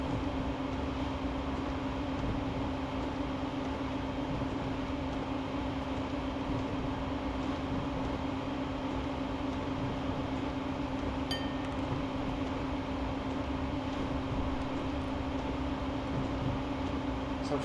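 A train in the East Coast Main Line simulator runs at speed near its 108 maximum, a steady loud rumble and hum of wheels and motors with a faint clink partway through.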